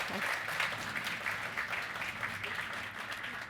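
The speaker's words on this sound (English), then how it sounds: "Yes, please give them a round of applause." An audience applauds with dense, steady clapping that holds at an even level throughout, heard from a moderate distance.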